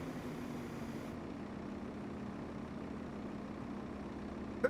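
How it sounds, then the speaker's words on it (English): Farming Simulator 25 tractor engine on Witcombe Park Farm, a low steady rumble that holds at an even, fairly quiet level throughout, with no talk. "Okay, tractor's coming."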